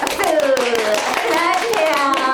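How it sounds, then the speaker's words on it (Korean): A group of children at a church service claps, close and loud irregular hand claps mixed with children's chatter and raised voices throughout. "박수!"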